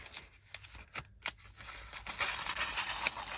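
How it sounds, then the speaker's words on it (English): Scissors cut out a square of paper in close, crisp snips and slicing strokes, several separate cuts followed by a denser run of cutting toward the end, with no one talking. "I'm just going to cut out a square"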